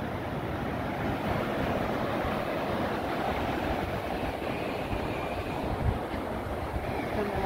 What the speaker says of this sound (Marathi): तर बघू शकता लाटा तुम्ही कशा उडायल्यात लाटा.